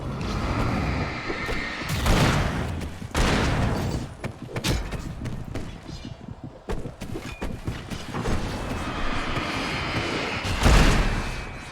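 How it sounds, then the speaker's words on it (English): Fireworks burst repeatedly during Alan Wake gameplay, a loud sequence of booming explosions and crackling thuds layered over a steady background rumble, with several especially heavy blasts spaced throughout. "Lots of fireworks here."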